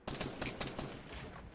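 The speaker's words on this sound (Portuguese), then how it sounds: "Eu dei tiro, porra." Rapid bursts of gunfire in a Fortnite duo versus squad match, several sharp shots in quick succession over a steady game background, loud and close.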